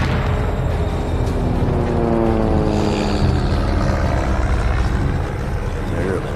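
Japanese warplanes roar overhead in a wartime film scene, a loud, continuous propeller-engine drone filling the whole clip with a slight fade near the end, while a voice speaks beneath it.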